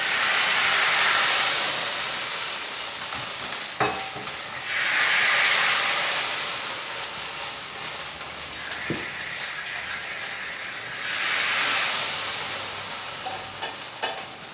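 Tadka tempering sizzles as it is poured into Karachi-style pakora kadhi, giving bursts of loud hissing and frying steam in three waves, with stirring and a few sharp utensil clicks in between.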